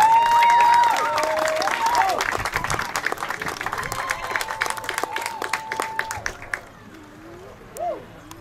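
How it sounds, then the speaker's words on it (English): A crowd applauds and cheers as a pathfinder band marches past at an outdoor passing-out parade, the clapping dense and loud at first, then thinning and fading out, with scattered voices and a distant instrumental tone. "give them a round of applause as they pass"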